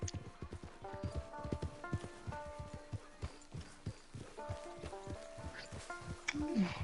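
Horse hooves clip-clop in a steady, brisk rhythm in the video game Red Dead Redemption 2, close and clear, with sustained musical tones and occasional ambient sounds underneath.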